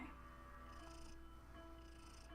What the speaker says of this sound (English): he's a big old kitty cat